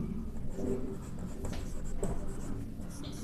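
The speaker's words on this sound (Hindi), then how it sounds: "तो हम लिखेंगे" Chalk or marker scratching across a classroom board during a geography lesson on climate regions, with several short strokes close by in an otherwise quiet room.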